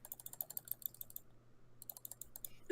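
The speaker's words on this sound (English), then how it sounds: "I'm just literally spazzing and clicking my mouse everywhere." A computer mouse is clicked rapidly and at random during a game, making a fast, uneven run of close, crisp clicks that pauses briefly and then resumes.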